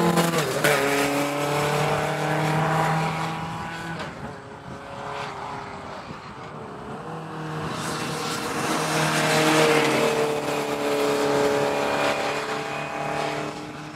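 An open-wheel formula race car at a racing school drives hard, its engine revving up and down through gear changes as it passes, loud and close, with a brief dip in the middle before climbing again.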